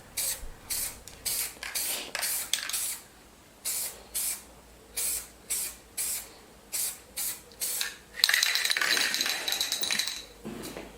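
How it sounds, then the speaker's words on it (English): Spray can of primer coating a lawn mower deck in repeated short hissing bursts, roughly a second each with pauses, ending in a longer continuous spray. "Popping on a second coat of primer just to make sure that all the bare metal is covered."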